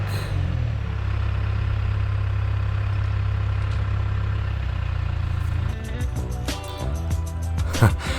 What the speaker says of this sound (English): using the backhoe, this fence post should come out smooth as silk